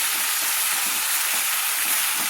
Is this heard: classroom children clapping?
no